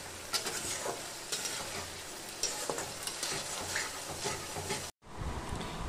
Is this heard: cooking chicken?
yes